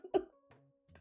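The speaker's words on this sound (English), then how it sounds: "You made me laugh so hard I started coughing." A person coughs from laughing hard, with one strong close cough burst followed by two softer throaty coughs or breaths, each short and separated by brief quiet.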